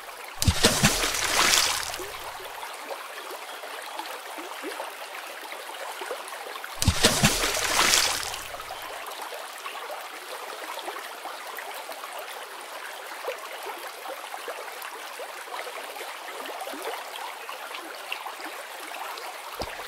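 Cartoon river water sloshing around a small boat at night as a fishing net is thrown in, two short splashy bursts standing out over a steady watery wash.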